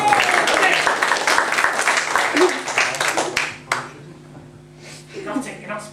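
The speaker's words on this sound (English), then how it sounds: "Give him a round of applause." An audience at a live magic show at an arts festival breaks into a burst of clapping that lasts a few seconds and then fades, with voices over and after it.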